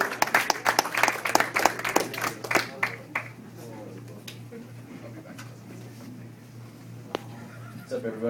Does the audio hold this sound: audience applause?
yes